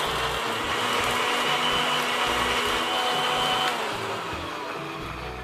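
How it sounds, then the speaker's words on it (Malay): A blender grinds onions and chili steadily with a loud whirring motor and churning chopped ingredients, the pitch shifting slightly before easing off toward the end. "Teruskan menyisar."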